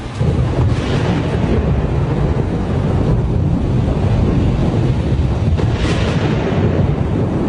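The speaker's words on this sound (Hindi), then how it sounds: "हम मार्स पर ही पले बड़े हैं, लेकिन कभी ऐसा तूफान नहीं देखा।" A thunderstorm on Mars in an animated movie: sustained loud rumbling thunder with wind and rain, a dense continuous roar with a few brighter cracks.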